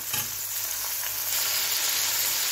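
Vegetables fry with a little salt in a pan, a steady, close, dense sizzle that runs unbroken throughout, with a brief stirring scrape near the start and no voices.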